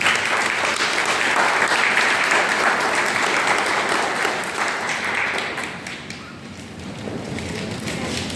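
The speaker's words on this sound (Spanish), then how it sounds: "Un fuerte aplauso, por favor." An audience at a book presentation gives loud, steady applause that fades after about five seconds and then lingers as lighter clapping.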